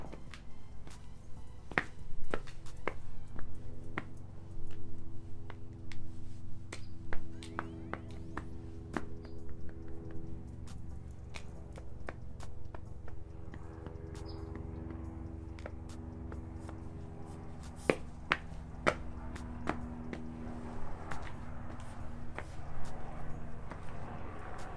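Nike Metcon 4 CrossFit training shoes make scattered soft taps and sharp clicks on a floor in an irregular rhythm. The sound is faint and close, over a low background hum.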